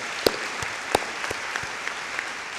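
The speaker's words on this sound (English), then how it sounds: "I give them a round of applause." Applause from a crowd at a Westchester Community College commencement ceremony, a dense crackle of many hands clapping at moderate volume, with a few sharper claps standing out.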